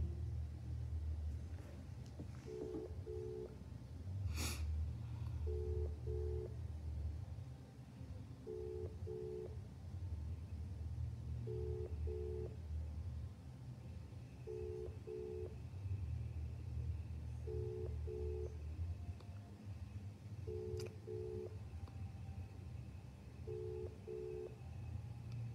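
Repeated dual-tone telephone signals pulse at a steady interval of about three seconds, like a busy or ringback pattern on a call, over a constant low rumble with no voices.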